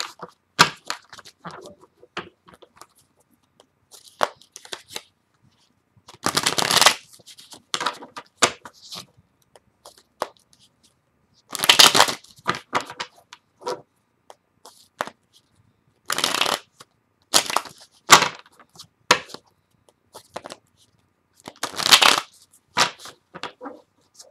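A shaman oracle card deck riffled and shuffled by hand in repeated loud bursts of papery rustling and snapping, separated by quiet pauses, close up.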